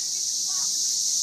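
Live cicadas give a loud, steady high-pitched buzz that runs unbroken through the whole moment, with a brief faint voice-like sound in the middle.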